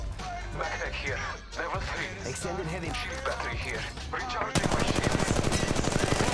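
Rapid automatic gunfire rattles in Apex Legends Mobile gameplay: scattered game effects and a voice first, then a loud sustained machine-gun burst takes over the final seconds.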